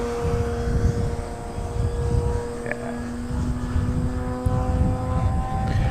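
Hangar 9 Pitts S-2B 50-60cc gas-powered RC biplane flying a stock setup, its engine giving a steady, fairly loud drone with a sustained propeller hum that holds roughly even throughout.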